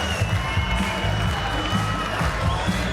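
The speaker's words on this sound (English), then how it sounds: "the crowd's looking to bring it down" A large crowd roars and cheers continuously at Alexandra Palace during a Mosconi Cup pool match, a dense loud wall of shouting and whooping with scattered clapping.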